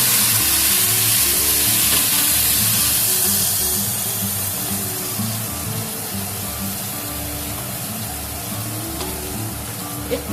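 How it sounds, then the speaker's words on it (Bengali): Washed Gobindobhog rice frying in hot oil in a pan while being stirred, a loud, close, steady sizzle and hiss that eases slightly partway through, with a low rhythmic hum beneath. "একটু সময় ধরে আমি একটু ভাজা ভাজা করে নেব চালটাকে"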